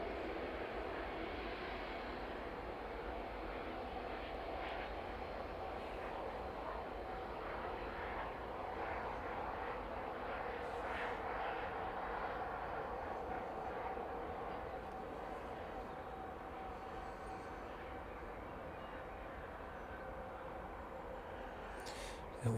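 A Ryanair jet taxis at East Midlands Airport in the evening, a faint, distant and steady engine whine and rumble with a tonal hum, with occasional voices in the background.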